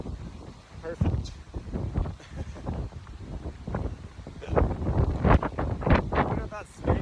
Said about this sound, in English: It was so windy.